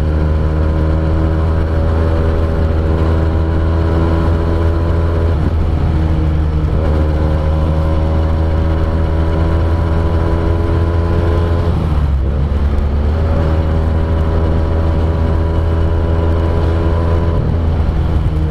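A Benelli TNT 249 S two-cylinder 250cc motorcycle engine runs loud and steady, rising and falling in pitch with a brief dip around the middle before climbing again.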